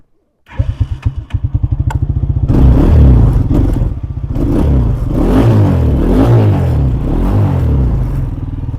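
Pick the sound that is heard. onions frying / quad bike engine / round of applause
quad bike engine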